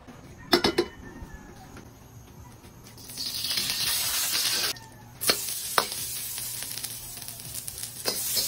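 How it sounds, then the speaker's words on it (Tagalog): Garlic, onion and tomato sauté in a little cooking oil for ginataang sigarilyas. A loud, close sizzle swells and fades, broken by sharp clanks and scrapes of a spatula against the pan. "gisa na rin natin ang bawang, sibuyas at ang ating kamatis"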